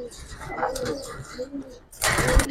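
Giribaz and coloured fancy pigeons coo in a loft, low throaty calls mixed with rustling and a louder burst near the end, with someone talking over them.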